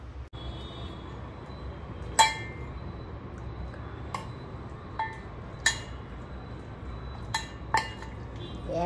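A spoon clinks and scrapes against a bowl as prawns are mixed with onion-garlic masala, red chili powder and homemade spice mix. The light, sparse clinks come at irregular intervals, fairly quiet, with no talking.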